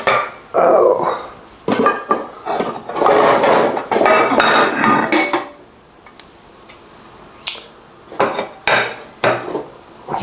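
Metal pie pans clatter and clink loudly as they are rummaged through in a kitchen cupboard, bursts of jangling followed by a quieter pause and then a few sharper separate clanks.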